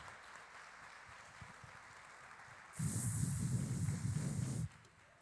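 Church congregation applauding at an evening worship service, a burst of clapping that swells in at mid-clip, holds steady and loud for about two seconds, then stops abruptly.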